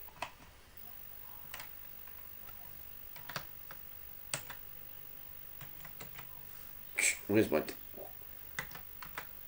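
Keys clacking on a ZX Spectrum 128 keyboard, sparse irregular taps followed by a short louder burst of presses, close and fairly quiet, with brief speech mixed in.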